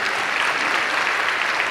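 A church congregation claps in a dense, even burst of applause, steady throughout the short stretch with no speech over it.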